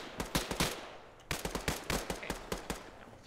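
Bursts of gunfire crack out in a combat game setting, a quick cluster of sharp shots, a short pause, then a longer run of rapid, evenly spaced shots, fairly distant and without talk.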